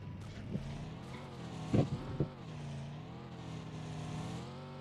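Car driving in the mobile battle-royale game PUBG Mobile, a steady engine drone with shifting pitch as it accelerates, plus a few brief louder bumps partway through, heard alone without speech.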